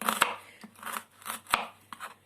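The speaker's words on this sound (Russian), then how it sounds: "Лук режете в произвольном виде, как хотите." A knife chops through onion on a cutting board, several uneven crisp thuds spaced apart, close up and fairly clear with no talking.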